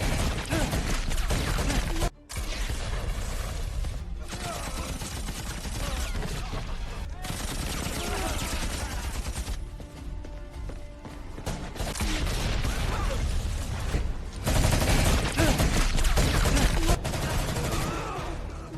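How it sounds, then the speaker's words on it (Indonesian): Sustained gunfire fills a police-station shootout in the action film Triple Threat, dense bursts of shots layered with film music and mechanical clatter, loud throughout with brief drops, narration-free. "Dan terjadilah baku tembak di kantor polisi"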